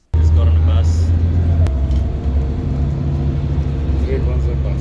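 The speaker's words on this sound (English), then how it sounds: "Just got on a bus." Steady engine rumble and road noise from inside a moving bus around Caloundra, a low continuous drone with a brief sharp click partway through, the hum shifting slightly in pitch as it runs.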